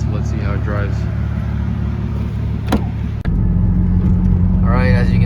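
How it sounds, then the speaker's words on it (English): A BMW E36 fitted with a two-step launch-control rev limiter drives on a test run, its engine rumbling steadily and close while a person talks over it. "I'm gonna go for a little test drive and see if this thing still works or not."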